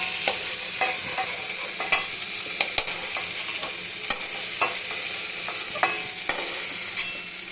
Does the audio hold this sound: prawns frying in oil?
yes